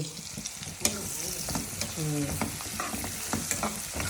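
Spices crackle and sizzle in hot oil, with sharp stirring scrapes and a few pops, close by and fairly steady for a few seconds.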